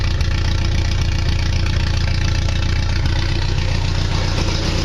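A 1960 Triumph TR3A engine idles loudly and steadily through a rough, throaty race exhaust, with a constant low rumble and fast pulsing.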